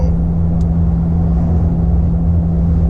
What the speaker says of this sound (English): Right now, we're cruising at 55 miles an hour in 6th gear.